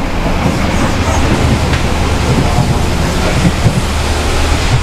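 Loud, steady broadband roar inside a passenger train's dining and power car, where a diesel generator runs constantly, blending engine drone with rolling rail noise and no clear breaks.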